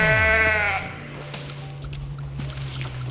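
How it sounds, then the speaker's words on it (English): A goat in the video game Goat Simulator lets out one loud, wavering bleat at the start, followed by a steady low drone that continues to the end. "these are different goats. Look about different goats."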